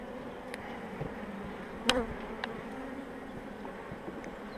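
Steady buzzing of many honey bees close by at an opened hive with brood frames, a continuous hum with a few louder individual bees passing near.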